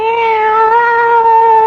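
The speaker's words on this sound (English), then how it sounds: "Two women in the same kitchen, plus a cat. Teeth are bared. Claws are unsheathed. Fur flies. It's a cat fight." Drawn-out, tonal cat yowl from a radio drama cat fight, a single loud sustained caterwaul held steady and close with no voices over it.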